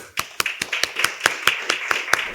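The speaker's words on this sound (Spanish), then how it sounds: "Un fuerte aplauso para Manuel." A small audience at a cultural talk claps in sparse, fairly regular sharp claps, each distinct and close, with a faint murmur underneath.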